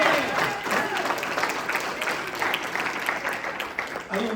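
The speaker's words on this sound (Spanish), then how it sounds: "Denle un aplauso al Señor" A church congregation breaks into loud, sustained applause during a worship service, a dense wash of clapping from many hands with a few voices mixed in, fairly close and continuing without pause.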